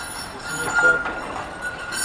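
A tram in Kraków, Poland, rolls in with a rumbling, metallic rail hiss and a brief high squeal, while people talk nearby.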